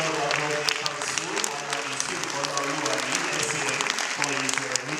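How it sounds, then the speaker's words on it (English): Dense, sustained applause from a large audience at a university convocation ceremony fills the hall for the whole stretch, steady and loud with a busy clatter of many hands. "please I urge you to clap now"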